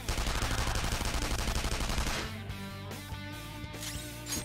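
In the video game Persona 5 Royal, a loud, rapid string of gunshots fires in dense succession, then drops away to quieter game sounds with a few sharp bursts.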